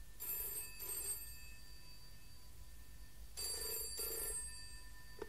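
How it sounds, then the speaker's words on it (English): An old-fashioned telephone bell rings in two long bursts separated by a pause, each burst a rapid double trill, loud and clear with no voices. "Answer the phone."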